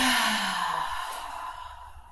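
A deep, audible exhale during a gentle yoga breathing exercise, one long breath tapering off over about two seconds, close and soft with no talking.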